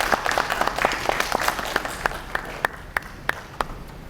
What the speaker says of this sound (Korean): 박수로 회장님을 맞이해 주시기 바랍니다.